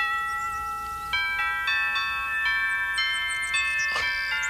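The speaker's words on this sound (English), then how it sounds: "A doorbell." An electronic doorbell rings quietly indoors, a sequence of sustained chime-like tones stacking in steps over a few seconds.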